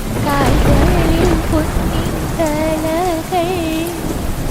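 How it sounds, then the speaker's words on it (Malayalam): Heavy rain pours steadily with thunder rumbling in the background, a dense wash of close downpour, while voices sing over it. "മഴ നിൽക്കുന്നില്ല"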